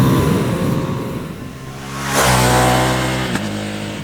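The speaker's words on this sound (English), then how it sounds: "The sound of that quick shifter when you blip down, it's got a bit of a crack to it, or a cackle." A 2025 Ducati Panigale V2S sports bike engine drones close by on a road, swelling into a louder rev midway, with a sharp crack from the quick shifter on a downshift near the end.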